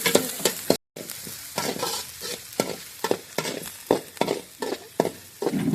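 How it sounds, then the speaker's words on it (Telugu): Cabbage, capsicum and green chillies stir-fry in a hot pan, a loud, close crackling sizzle broken by rhythmic spatula scrapes and tosses, with one short dropout near the start. "క్యాబేజీ, క్యాప్సికమ్, పచ్చిమిరపకాయలు ఇవి బాగా కొంచెం దోరగా వేసుకోవాలి"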